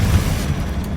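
Confringo spell explosion in the video game Hogwarts Legacy, a short, loud, deep boom with a rumbling tail.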